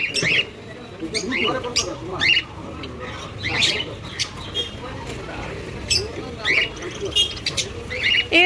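Caged birds and parrots at a bird market let out repeated sharp chirps and squawks in irregular bursts, close by, while people talk in the background.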